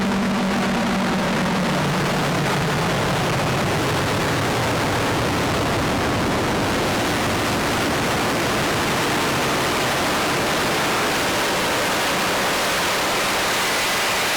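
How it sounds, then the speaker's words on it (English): Feedback from a Headbanger Eurorack module, sent through a filter and reverb, forms a loud, continuous wash of dense noise that shifts slightly in tone and never lets up, with no voices. "that is Headbangers send and return into a filter and into reverb"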